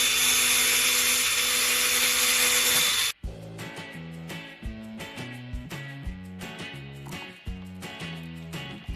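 A drill bores a 3.5mm hole in an RC servo arm for a large RC monster truck, giving a loud, steady, high whine for about three seconds before it cuts off abruptly and rhythmic music takes over.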